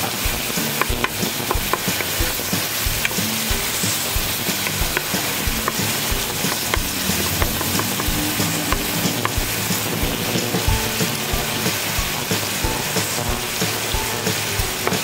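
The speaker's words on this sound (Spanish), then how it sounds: "Una vez que ya está bien refrito, echamos nuestra zarandaja." Zarandaja beans tipped into a hot sofrito for Piuran atamalado sizzle and fry steadily, with repeated scraping and stirring clicks from a spoon in the pan, close up and without talk.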